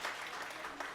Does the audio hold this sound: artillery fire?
no